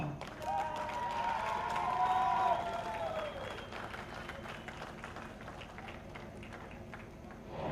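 A studio audience applauds and cheers for a television serial, a steady clatter of many hands with a sustained tonal cheer or music swell early on, tapering gradually over about eight seconds.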